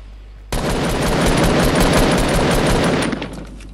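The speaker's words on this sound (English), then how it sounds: "Oh no, someone's shooting you." Rapid automatic gunfire in a video game getaway mode, a loud, close, continuous burst of shots starting abruptly and running about two and a half seconds before cutting off.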